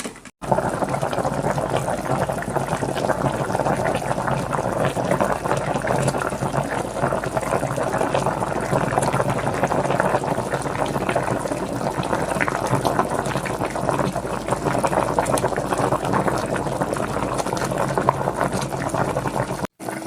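Adobo simmering in a pot, all the seasonings added together: a steady, dense bubbling and hissing that holds at the same level for twenty seconds, with no voices over it.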